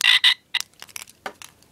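A squishy frog toy croaks as it is squeezed: two loud, close croaks in quick succession, then a scatter of shorter, fainter squeaky croaks.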